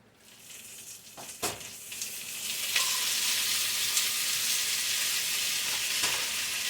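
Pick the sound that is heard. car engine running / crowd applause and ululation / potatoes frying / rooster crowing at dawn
potatoes frying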